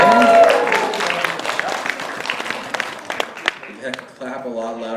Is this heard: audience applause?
yes